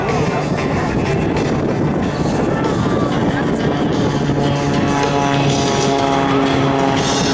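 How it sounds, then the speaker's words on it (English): Red Bull stunt airplane with a Lycoming engine flying low and slow at a military open house air show, a loud continuous engine roar with steady droning tones throughout. "A lot of thrust from that Lycoming engine"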